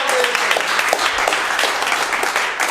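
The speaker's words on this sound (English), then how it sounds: "So let's give a round of applause." An audience at a football club's awards presentation night applauds, a dense, steady wash of many hands clapping that fills the room without letup, with faint voices mixed underneath.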